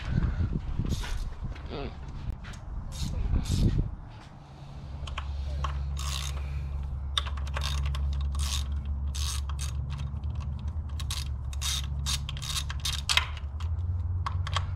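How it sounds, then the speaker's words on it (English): Bolts being loosened with a 10mm ratchet on a Fiat 124 Spider engine during a coil pack upgrade. Some early handling noise is followed by a long run of rapid, steady ratchet clicks over a low hum. "take the bolts out"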